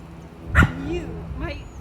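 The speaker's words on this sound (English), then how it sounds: "My dog is barking." A pet dog gives a single sharp bark followed by softer whimpering, yipping sounds close by indoors.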